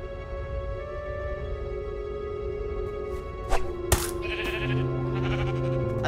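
A single short sheep bleat from Minecraft: Story Mode on Wii U rises over steady game music, followed by a brief clink, with the background tones continuing.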